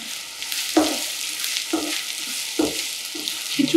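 Onion lightly frying in a pan for khichdi, a close hiss of oil with three or four distinct spatula scrapes at a slow, uneven pace.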